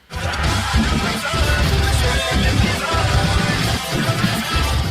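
A dense, fast-moving song with loud drums and guitars, played at a quickened tempo while the pitch stays natural.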